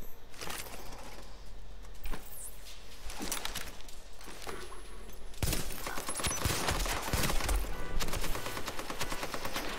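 Dense, continuous automatic gunfire from a machine gun in The Division, a street firefight with overlapping bursts and volleys sustained throughout, loud and close with heavier fire in the second half.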